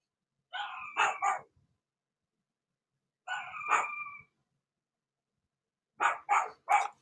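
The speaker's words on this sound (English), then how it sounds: "my dogs are barking" Dogs bark in a nearby room in short bursts: a quick double bark, a single bark a few seconds later, then a rapid run of three or four barks, each separated by silence.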